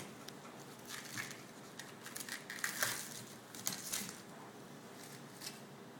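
A knife slices an onion into half moons on a cutting board, giving soft, faint crunchy cuts in an irregular rhythm that cluster more densely toward the middle.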